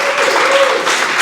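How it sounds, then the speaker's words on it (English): A live audience at a kidney patient celebration gives a guest a brief burst of applause, loud, dense clapping over a faint steady tone. "if you give a hand of applause to Nikki Tapper"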